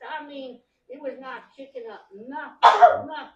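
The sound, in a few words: sneeze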